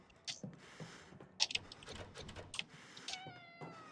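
A cat meows in the video game Conarium, several short calls scattered among faint mechanical clicks and ticking, quiet and set against a soft ambient background.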